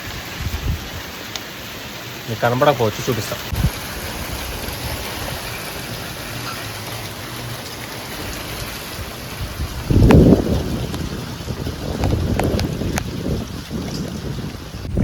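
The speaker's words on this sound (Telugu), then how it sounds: "వర్షం గట్టిగా పడుతుంది," Heavy rain falls steadily as a broad, constant wash of noise throughout, with a few louder gusty swells, while a person speaks briefly over it.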